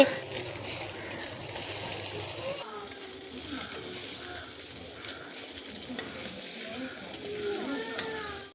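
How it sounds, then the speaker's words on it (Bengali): Fish frying in a pan during a children's doll-play cooking game, a steady broadband sizzle with stirring clatter throughout, close and moderately loud, with a voice speaking over it at times. "এই দেখো আমি মাছ ভাজি"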